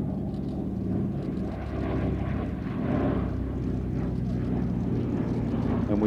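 A Douglas DC-3 (C-47) twin piston-engined propeller airliner drones at an air festival, a loud, continuous low rumbling roar with a throbbing texture that holds steady throughout.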